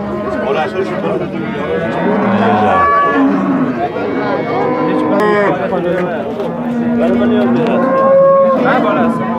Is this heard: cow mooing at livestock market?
yes